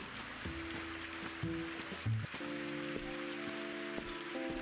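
Rain falls in the video game Viewfinder, a soft continuous patter on surfaces heard faintly beneath steady tonal game music.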